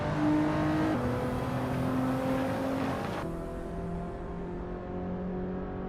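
A 1998 Mitsubishi 3000GT VR4 racing in a video game, its engine holding a steady sustained whine that shifts pitch once mid-run, then keeps droning at a slightly lower, quieter level with no talking.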